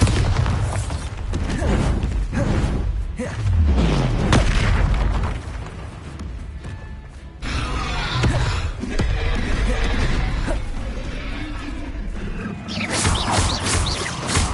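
Repeated Bombarda blasting spells in Hogwarts Legacy, loud booming explosions that burst and roll out one after another over a dense, noisy game soundscape for the full stretch.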